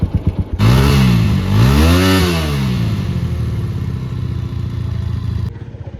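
A motorcycle with a flat battery catches after being pushed back and forth, its engine roaring up and revving loudly close by, then settling into a steady, chugging idle.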